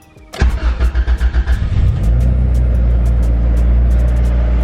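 An EG Honda Civic engine cranks in a quick series of rhythmic pulses, then catches and settles into a loud, steady idle close by.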